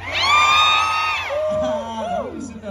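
Crowd at an outdoor K-culture concert by Cheongwadae whoops and yells loudly, rising whoops and shouts sustained over a couple of seconds before fading into a lower murmur.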